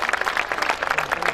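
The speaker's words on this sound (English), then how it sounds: "Please encourage them with a loud applause." Dense applause from a school audience for award winners at an annual day celebration, many hands clapping steadily in a large hall, fairly loud with no voice over it.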